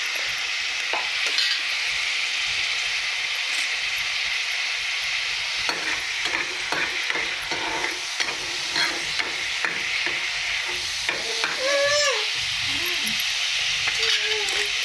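Masala spices roasting in a pan for a spicy misal pav give a steady close sizzle and frying hiss, with scraping stirs throughout and a brief squeaky utensil scrape near the end.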